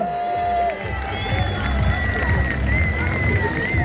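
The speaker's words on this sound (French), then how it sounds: "sous vos applaudissements s'il vous plaît" Spectators at a drag power show in Chambley cheer and clap for a stunt rider, lively crowd noise with shouts and a voice on a loudspeaker over the top.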